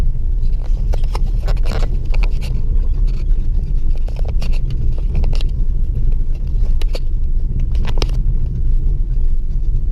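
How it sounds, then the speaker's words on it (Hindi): A car's engine runs with a steady, loud low rumble as it drives slowly after the clutch is released, with faint clicks and knocks on top and no talk. "गाड़ी किस तरह से चल रही है।"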